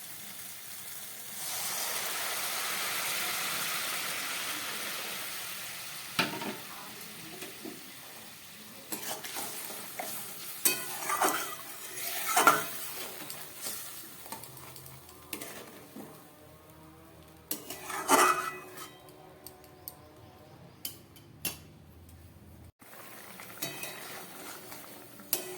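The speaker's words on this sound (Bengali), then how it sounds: "এবার আমি দিয়ে দিচ্ছি এর মধ্যে উষ্ণ গরম জল।" Warm water is poured into a sizzling spice mixture in a pan for a bele fish curry, a brief rushing hiss at the start that settles into a quieter bubble, followed by intermittent spoon scrapes and clinks.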